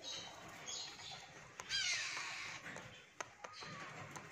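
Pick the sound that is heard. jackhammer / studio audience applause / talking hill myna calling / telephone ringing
talking hill myna calling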